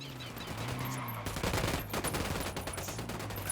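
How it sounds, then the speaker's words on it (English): Gunfire in the video game Ghost Recon Wildlands breaks out as a sudden dense burst of rapid automatic shots that keeps rattling at moderate loudness over a steady low ambient hum, with no talk. "Opening fire."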